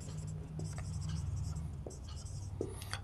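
A marker or pen scratches steadily on a board while someone works through a geometry problem. Faint, continuous strokes with a few brief taps sit under a low background hum.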